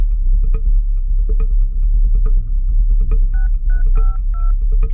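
Phone keypad tones beep in a quick series of short dialing blips over a low steady hum, several tones in rapid succession.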